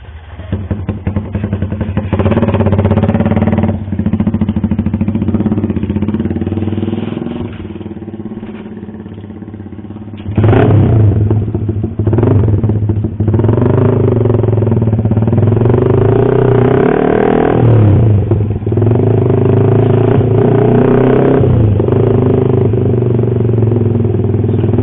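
Motorcycles riding along, including a red motorbike, with a steady mid-pitched engine drone and rattling clatter that rises again after a brief dip, loud and close throughout.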